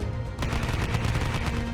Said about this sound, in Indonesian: suara tembakan dari luar diner